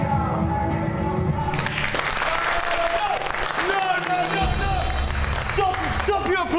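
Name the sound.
audience applause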